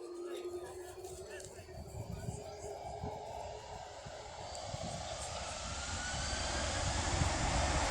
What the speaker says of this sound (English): And there's a 737 by Ryanair